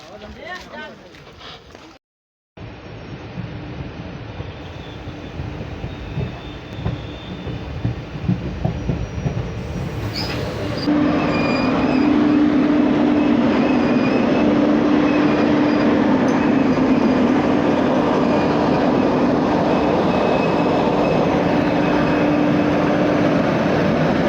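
A passenger train runs on the Katihar to Tatanagar line, its rolling rumble and clatter steady and close. After a brief dropout the noise swells louder, and a sustained tone comes in partway through.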